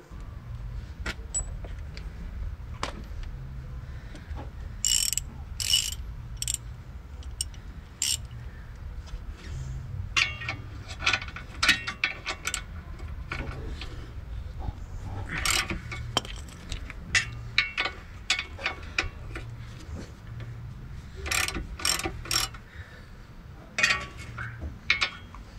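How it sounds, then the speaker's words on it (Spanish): A ratchet works loose the suspension ball joint bolts on a Volkswagen. Scattered metallic clicks and clinks come in irregular bursts against a low background hum, close by. "lo próximo que hacemos es retirar estos tres tornillos que estoy señalando acá"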